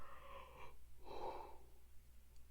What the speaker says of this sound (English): Again, sorry, yawning.